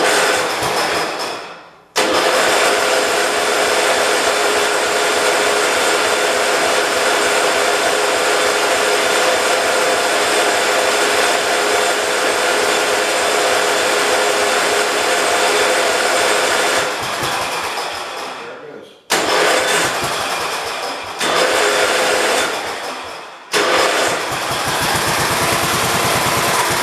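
The engine of a 1969 Patio 112 tractor cranks, catches and runs loud and steady for long stretches, with a few brief cutouts and restarts before settling back into a continuous drone.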